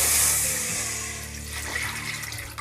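Three to four cups of water pour steadily into a kadhai for cauliflower pakoras, a continuous bright splashing rush that slowly eases off, with no talking.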